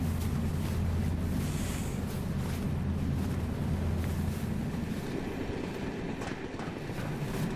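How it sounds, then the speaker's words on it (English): Wind ambience in an indie train video game, a steady low roar and rush with a faint rumble of rails underneath, continuous and fairly loud throughout with no talking. "we got some wind sounds, which are a little bit buggy"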